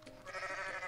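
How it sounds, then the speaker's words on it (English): A goat in Goat Simulator lets out one short, nasal, wavering bleat, close and fairly soft, lasting under a second. "Yeah, you see, it's making goat noises."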